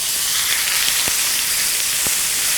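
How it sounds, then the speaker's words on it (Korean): Loud, continuous sizzling of steak searing in hot oil, a steady crackling hiss with a couple of soft pops. "고기가 올라갈 때 이 하는 소리 들리시죠?"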